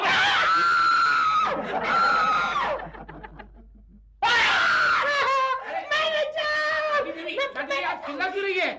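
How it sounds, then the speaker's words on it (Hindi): A woman screams loudly in a hotel setting in a Hindi comedy episode, with two long shrill bursts, a trailing breathy fade, then more frantic high yells and cries that continue in rapid, shaky bursts. "आप चिल्ला क्यों रही है?"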